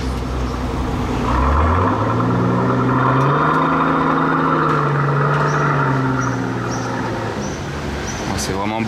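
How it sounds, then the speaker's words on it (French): Mercedes V12 engine, the same unit used in the Pagani Huayra, fitted to a matte rose-gold car in Monaco, revving up and holding a steady loud drone with a rising then falling pitch, people talking over it. "C'est vraiment beau, un bruit de V12, hein."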